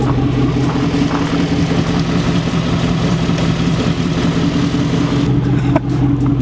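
A truck engine runs steadily under load while pulling a car by strips of duct tape, a loud continuous low rumble that holds throughout with no talk.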